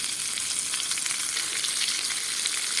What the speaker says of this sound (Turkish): yağda sürekli arada çeviriyorum ki her yerine işlesin ve her yeri pişsin soğanları